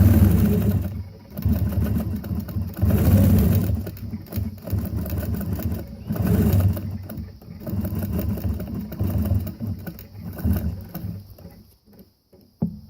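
A Nolting NV longarm quilting machine stitches continuous curves and curved crosshatching, its steady mechanical hum rising and falling in loud surges with brief pauses, close and without talk.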